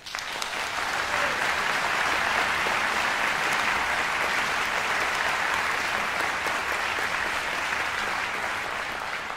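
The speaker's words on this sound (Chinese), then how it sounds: "所以我们要为他们鼓鼓掌" An audience at a cello chamber ensemble concert claps steadily, a dense, sustained wash of applause that stays loud from start to finish.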